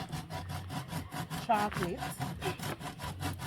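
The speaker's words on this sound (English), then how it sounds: "so now I am grating the chocolate" Block of chocolate scraped against a grater in quick, even rhythmic strokes, close and moderately loud, with a brief voice in the middle.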